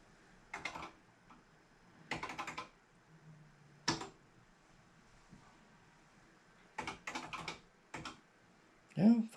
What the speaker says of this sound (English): if I could type properly